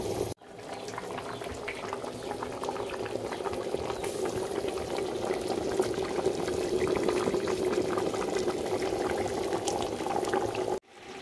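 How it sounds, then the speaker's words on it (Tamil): Rice and water boil together in a pot for mushroom biryani, giving a steady, close bubbling and hissing simmer that runs evenly for about ten seconds with no one speaking. "இப்ப பாருங்க, நல்லா இப்பதான் கொதிச்சுட்டு இருக்கு"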